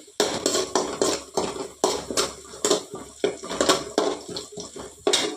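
Cut beetroot dish pieces dropped one after another into a frying pan, a series of sharp clattering impacts and metal scrapes against the pan, close and fairly loud, with no talking.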